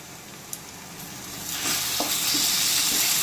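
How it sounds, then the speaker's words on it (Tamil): Tomatoes frying with ginger-garlic paste in a pan for a drumstick curry, a steady sizzle that swells louder midway, with occasional soft scrapes from stirring. "தக்காளியோட பச்சை வாசனை போகிற அளவுக்கு நல்லா கிளறி விட்டுக்கலாம்"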